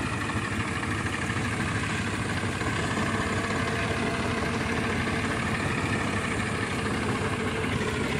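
A tractor engine idles nearby with a steady, unbroken low rumble and a slight vibrating chug throughout.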